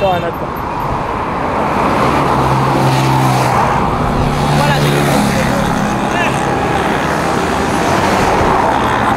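A car pulls up and drives along a street in Abidjan, Côte d'Ivoire, its engine a steady close rumble over continuous roadway noise, with people talking nearby.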